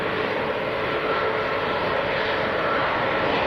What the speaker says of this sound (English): opening the stream with a Ryanair 737